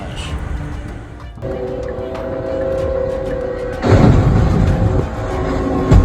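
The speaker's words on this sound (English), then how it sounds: "This is video of a train crashing into a tractor trailer, hauling military equipment." A train strikes a tractor trailer hauling military equipment on a level crossing: a steady rumble builds, then a loud, sudden crash bursts in and sustained grinding noise follows to the end.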